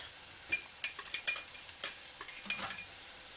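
Clinks and light scrapes of a utensil against a bowl as sugar, salt, minced garlic and minced ginger root are added and mixed, a quick irregular run of small taps without talk.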